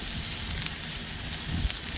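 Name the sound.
onions sizzling in frying oil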